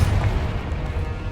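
Confringo blasting spell going off in Hogwarts Legacy: a heavy, dense low boom that holds steady and rumbles for over a second, alone with no talk.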